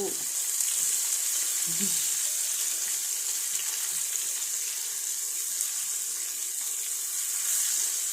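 Sardines fry in a pan with a steady, bright sizzle that holds close and loud through the whole stretch, joined by a couple of faint low knocks near the start and no talking.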